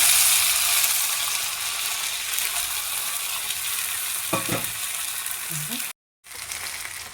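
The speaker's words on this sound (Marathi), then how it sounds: "आपण आता त्याच्यामध्ये हे भिजलेले साबुदाणे आपण भाजूया" Soaked sabudana roasting with chillies in oil on a pan for sabudana khichadi, a steady broad sizzle throughout with a few faint spatula scrapes, a brief dropout near the end, and no talk.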